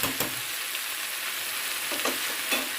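Minced meat (keema) cooking uncovered in a pan, a continuous close hiss of sizzling with a few soft scraping stirs, steady and alone.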